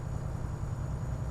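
A steady, low Iveco Stralis truck engine drone from Euro Truck Simulator 2 hums continuously at moderate level, monotonous and unchanging, with no other sounds.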